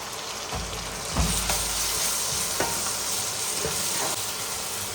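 Mustard, ginger and garlic paste frying in a pan for a Bengali fish and brinjal dish, a steady close sizzle with a few soft scraping stirs and no talk.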